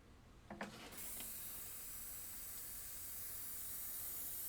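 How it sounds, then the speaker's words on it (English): A couple of faint clicks, then a sudden continuous high hiss of an airbrush spraying at maximum air pressure, steady and unbroken until the end. "So that's maximum air pressure, just squirting out the window."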